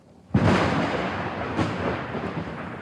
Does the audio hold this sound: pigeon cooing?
no